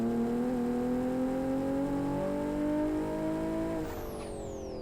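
A modded car in the Live for Speed S3 racing game revs with a smooth, steadily climbing engine tone, then the pitch drops sharply near the end; the sound is continuous and moderately loud with no talk.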